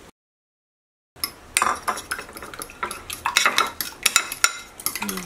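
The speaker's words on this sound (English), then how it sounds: "I'm just going to mix this up" Heavy cream and an egg whisked together in a bowl over cream cheese for keto pancakes, after a moment of silence, a quick run of clinking, scraping strokes against the bowl, close and steady.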